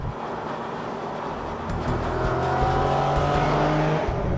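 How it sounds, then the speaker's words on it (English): Engine and exhaust note of an Infiniti G37S coupe while driving, a steady low drone that deepens and swells as the car accelerates, close and continuous with no talk. "the exhaust note on the G37 sounds better than the 370Z"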